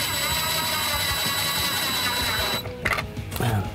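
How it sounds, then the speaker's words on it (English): A nut driver runs a lock nut down over a washer with a steady mechanical whir, loud and close, then breaks into choppier clatter and handling noise near the end. "use the nut driver to secure it"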